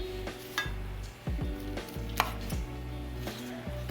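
A knife chops mushrooms on a cutting board with quick, regular thuds, about two or three per second, close and quiet with no voices.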